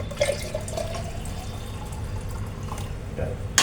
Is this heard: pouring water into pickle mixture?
yes